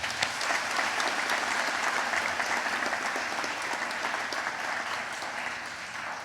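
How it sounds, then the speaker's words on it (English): Sustained applause from a large audience at RMIT University's 2015 graduation ceremony in Hanoi, a dense steady wash of clapping that holds loud throughout and eases slightly at the end. "I think that deserves a really big round of applause."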